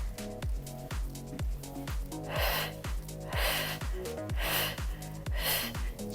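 Sharp, forceful exhalations during a slimming workout, repeated in a steady rhythm about twice per second over backing music, each breath a short breathy puff.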